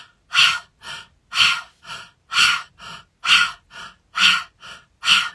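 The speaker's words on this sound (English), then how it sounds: "breathing in." Deep meditative breathing, slow and close, with strong airy inhales alternating with softer exhales in an even rhythm, about five full breaths, alone with no talk.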